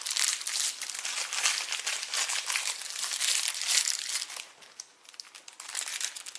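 Thin plastic bag crinkling and rustling steadily as marshmallow Peeps are pulled out, close and continuous with a brief lull near the end.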